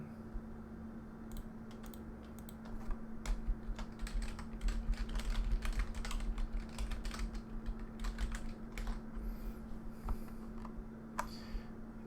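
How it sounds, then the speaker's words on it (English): Rapid, uneven keystrokes on a computer keyboard, close and fairly quiet, clattering in bursts over a steady low electrical hum, with no voices. "Why the hell can I still hear my keyboard?"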